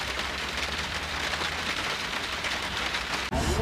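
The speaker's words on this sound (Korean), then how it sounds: "지금 빗소리 때문에 분위기가 좀 괜찮은 것 같아요" Rain falls on a parked Chevrolet Traverse High Country during car camping, the tailgate open, as a steady dense patter that runs evenly, then cuts off abruptly near the end.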